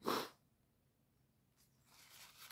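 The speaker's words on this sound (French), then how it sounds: "Je vais éternuer." A single sharp sneeze bursts out at the start, followed by near silence and then some faint breathy rustling.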